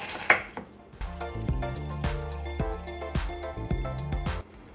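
A knife slices a medium onion on a cutting board, giving a quick series of crisp knocks in an uneven rhythm that sound close by and fairly quiet.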